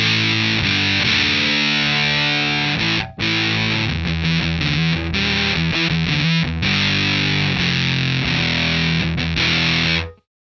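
Electric guitar through a fuzz pedal on its classic setting, heavily distorted and aggressive, chords ringing loud and sustained with one brief break before it cuts off sharply.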